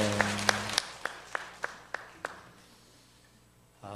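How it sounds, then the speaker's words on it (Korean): A church congregation claps together in a steady rhythm, about eight sharp claps close together, then the hall falls almost quiet. "우리 하나님께 영광의 박수 올리겠습니다"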